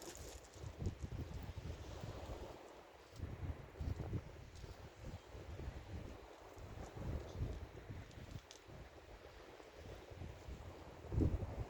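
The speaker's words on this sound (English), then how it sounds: "It's got quite a bit of wind today, but it doesn't present us with any problems." Gusty sea wind buffets the microphone on the shore at Hastings during a fishing session. A low, rumbling roar rises and falls, with faint waves underneath.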